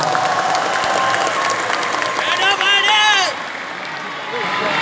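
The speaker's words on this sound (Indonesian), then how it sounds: "Tepuk tangan untuk para pejuang reformasi kita" A large audience in an indoor arena applauds the reform fighters with dense, sustained clapping. A voice speaks briefly over it before the applause eases off.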